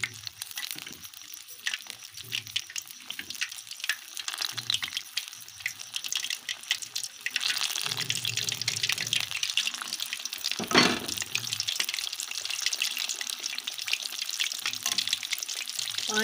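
Fish pakora deep-frying in lightly hot ghee, a steady close sizzle and bubbling that runs throughout, swelling slightly in the middle with a brief louder burst.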